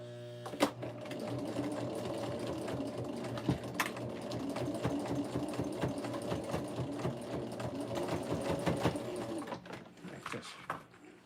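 A sewing machine back stitching through many thick layers of fabric for a zippered strip bag, a dense continuous mechanical whir with rapid needle clatter, a few sharp knocks where it strains, close and loud throughout.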